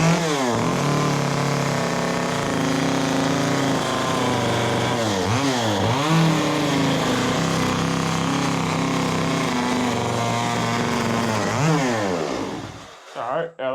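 A chainsaw smooths the rough surface of a carved pumpkin, running loud and close almost without a break, with its engine pitch rising and falling several times as it revs, then dying away at the end.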